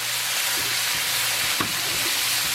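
Frozen peas sizzling in hot bacon fat for bacon gochujang fried rice, a dense, even, loud crackle with a few faint clinks underneath.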